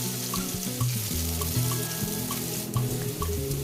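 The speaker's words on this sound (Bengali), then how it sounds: "এবার পনিরটাকে ভেজে নেব।" Paneer cubes frying in oil in a kadai on a gas stove, giving a continuous bubbling sizzle with scattered light clinks of utensils against the pan.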